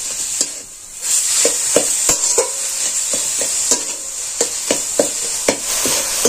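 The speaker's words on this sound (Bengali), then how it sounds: "এবার এটা আমি নেড়ে চেড়ে পুরটা তৈরি করে নেব।" Puffed rice and sugarcane jaggery filling stirred in a pan, with rhythmic scraping strokes of a spatula repeating every fraction of a second over a steady bright hiss, loud and close.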